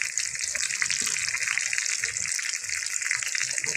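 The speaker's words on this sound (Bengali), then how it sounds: "আমরা ফিশ ফ্রাই করতেছি" Fish frying in a pan, seasoned with mixed spices, gives a steady, dense hiss and crackle of hot oil that stays even and close throughout, with no voices over it.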